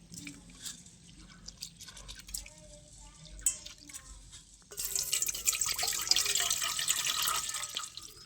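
Dal lentils being rubbed and rinsed in water to wash off dirt, with drips and trickles at first, then a louder, steady splashing and sloshing of water in the second half, close by.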